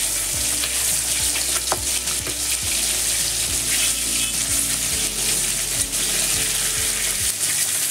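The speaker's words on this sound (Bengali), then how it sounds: "এক সাইড হয়ে গেছে, আমি উল্টে দিচ্ছি" Rupchanda fish sizzles loudly in hot oil after being flipped, a close, continuous frying hiss with regular scraping and stirring clatters from a spatula.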